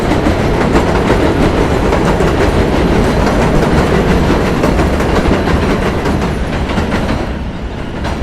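A loud New York City subway train rumbles past close by, wheels clattering rhythmically on the rails, fading slightly toward the end.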